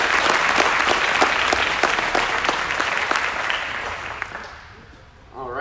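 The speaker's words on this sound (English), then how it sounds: "Let's give them all a round of applause." Audience applause at an aviation gubernatorial town hall, a loud sustained burst of many hands clapping that fades toward the end, followed by a voice starting to speak.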